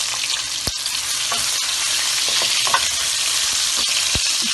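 Onions sizzling and frying in a hot pan with oil while cooking capsicum keema, a steady close crackle with occasional stirring clinks and no talk.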